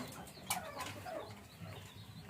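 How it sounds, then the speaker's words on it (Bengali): Chickens on a farm pecking at leftover noodles give soft, scattered clucks and a brief flutter, faint and fairly distant against low background noise, with no talking. "নুডলস বেঁচে গেছে তো এটা এখন মুরগিরা খাবে নে"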